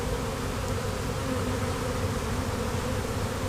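A honeybee swarm buzzes steadily during a hive capture in a backyard, a dense continuous drone close to the listener, unbroken and with no talk.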